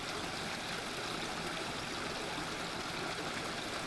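A creek flows steadily beneath a log bridge at Tumalo Falls near Bend, Oregon, a constant close broadband rush of water with no voices over it.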